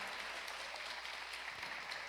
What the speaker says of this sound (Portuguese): Eu queria que a igreja desse uma salva de palmas a Tassimar.